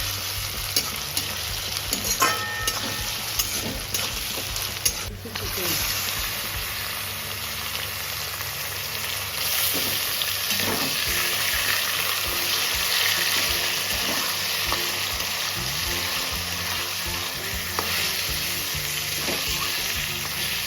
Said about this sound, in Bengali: আদা গ্রেট করে নিলাম এবার ভেজে নেবো